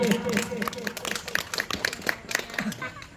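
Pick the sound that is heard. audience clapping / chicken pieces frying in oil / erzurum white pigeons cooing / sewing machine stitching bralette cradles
audience clapping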